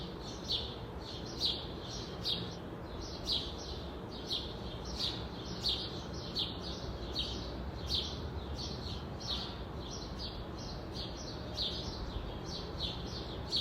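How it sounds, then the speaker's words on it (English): Birds sing steadily in a yard, a repeated high chirping phrase coming every second or so over a soft background hush, with no talking. "I even recorded just a little bit from the birds in my yard for you to listen into"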